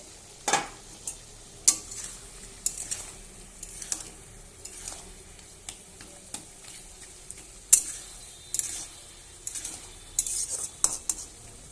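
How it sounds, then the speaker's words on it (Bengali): Food cooks in a pan while a utensil stirs it, making irregular metallic scrapes and clanks over a soft continuous sizzle, close and distinct, with no voices. "এবার আমি নেড়ে দেবো।"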